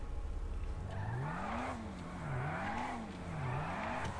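A car drives unsteadily in GTA V, its engine note rising and falling in repeated swells as the tires squeal and skid, a continuous moderate sound.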